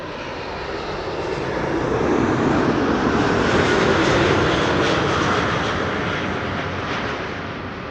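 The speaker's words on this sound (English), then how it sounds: "The 777-200 that passed by just now sounds different than a freighter or a 300 does." A United Boeing 777-200 jet arriving at Amsterdam Schiphol from San Francisco passes overhead, its engine roar swelling to a loud peak mid-way and then easing off, broad and continuous with no talk.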